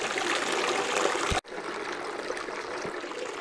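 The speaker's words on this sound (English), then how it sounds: "You can see how that recirculates with the holes in the bucket there." Water from a gold dredge concentrate setup recirculates through a bucket with holes, giving a steady, close rushing trickle with a brief cutoff partway through before the flow resumes.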